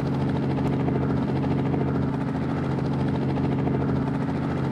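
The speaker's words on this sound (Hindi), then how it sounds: "ओके तो ये रहा हेलीकॉप्टर" Helicopter in the Indian open-world game Gangster India, a steady loud rotor drone with a low engine hum running unbroken throughout, with no voices.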